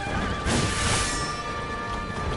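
A horse in the action game Wo Long: Fallen Dynasty gives a loud, brief whinny during a boss fight on horseback, surrounded by clashing combat noise.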